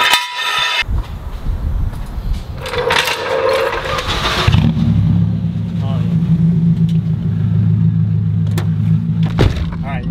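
A Subaru BRZ drift car with a newly fitted exhaust starts up and drives off. Early clunks and brief noises give way to a steady, loud, droning engine and exhaust note that holds through to the end.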